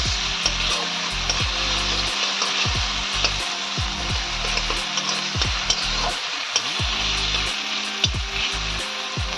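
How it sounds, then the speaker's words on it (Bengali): Onions and garlic paste fry in oil in a pan, a steady close sizzle broken by regular scraping knocks of a spoon stirring against the pan, with no voices. "পেঁয়াজটা যখন খুব ভালোভাবে ভাজা হয়ে যাবে তখন এক চামচ পরিমাণে রসুন বাটা দিয়ে দিলাম"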